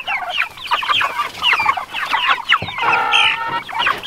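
Chickens kept in a moveable chicken tractor on fresh greens cluck and squawk close by in busy overlapping bursts, with one longer drawn-out call near the end and no talk.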